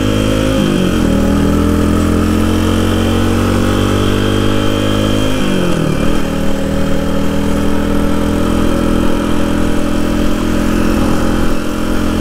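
Suzuki DR200 motorcycle riding through town, a close, continuous single-cylinder engine drone with two brief shifts in engine speed, heard alone without talk.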